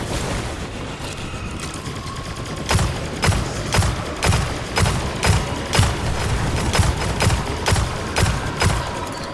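Hand cannon gunfire in Destiny 2, a regular series of about a dozen sharp, loud shots spaced roughly half a second apart over continuous game background noise.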